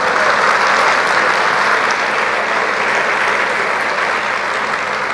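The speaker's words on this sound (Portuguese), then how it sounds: "Você pode aplaudir o Senhor," A church congregation applauds, producing loud, dense, continuous clapping that fills the room without a break.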